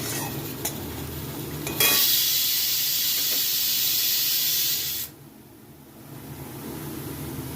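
Onions frying with a little sugar for mutton kosha: a loud, hissing sizzle bursts up close after a couple of seconds, holds strong for about three seconds, then drops back to a quieter crackle.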